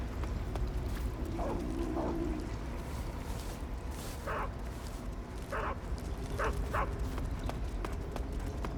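A guard dog in the stealth video game Metal Gear Solid 3: Snake Eater gives several short, spaced-out barks, set back at a moderate distance over a constant background rumble.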